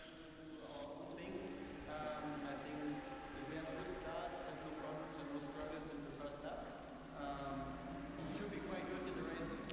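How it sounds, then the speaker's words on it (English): Rain falling in a sim racing game at the Nurburgring, a steady patter of raindrops under a voice talking over it, with engine-like tones at moderate, even level. "But the rain is still coming down."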